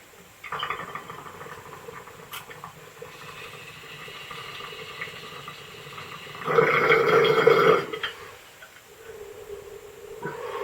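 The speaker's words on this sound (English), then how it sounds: "I think it's time for another bong rip." A dirty bong hit for cannabis: quiet draw sounds, then a loud, close burst of bubbling water lasting about a second before it fades.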